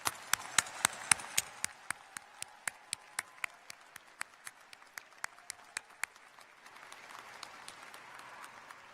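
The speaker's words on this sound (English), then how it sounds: "Another round of applause for our graduates." Graduates at a commencement ceremony receive a round of applause: a scattering of sharp, evenly spaced hand claps from a modest crowd that thins out over several seconds and fades into quieter room murmur.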